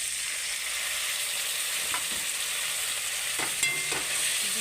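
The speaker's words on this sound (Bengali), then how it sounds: "একটু নাড়াবো ভালো করে" Onions fry with ginger and garlic in a pan, giving off a loud, continuous close sizzle with a few soft spatula scrapes as they are stirred, and no voices.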